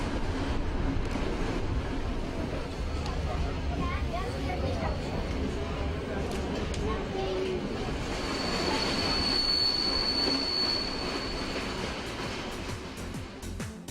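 A mountain railway train on the Sognefjord route in Norway rumbles along the tracks with wheels squealing and rattling, steady and close, while someone narrates throughout.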